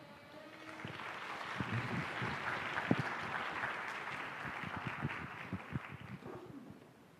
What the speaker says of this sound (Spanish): Le recibimos con un caluroso aplauso.